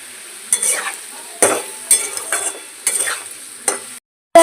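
Potatoes frying in hot oil with turmeric and salt in a home kitchen: crisp, close sizzling with brisk spatula scrapes and clinks every half second or so, then a sudden brief silence near the end.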